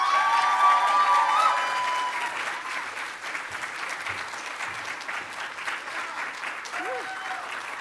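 Steady applause from a sizable graduation ceremony audience, dense and continuous, easing slightly in volume, with a few faint voices mixed in.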